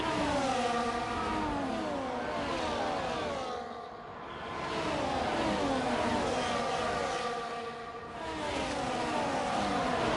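Several race cars run close together on the Austria circuit in a racing video game, their engines whining and revving in waves as they pass, with loud continuous sound that dips briefly twice.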